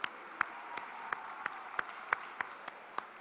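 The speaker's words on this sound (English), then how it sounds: "I want to recognize Judy Donnell with a big round of applause from 84 Lumber" Sparse, spaced handclaps from a small audience at a SkillsUSA North Carolina opening ceremony, sounding as a faint, thin, irregular patter rather than full applause.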